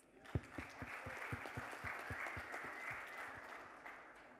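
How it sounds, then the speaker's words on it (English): Audience applause at a short film premiere: a crowd clapping steadily for about four seconds, dense and fairly loud, with a few sharper individual claps standing out near the start and no talking. "Can we have an applause, please?"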